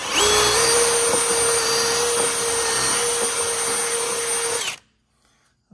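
Power drill boring through a wooden cornhole board leg, using an already drilled leg as a guide: a loud, steady high whine under constant load for nearly five seconds, then it cuts off into near silence.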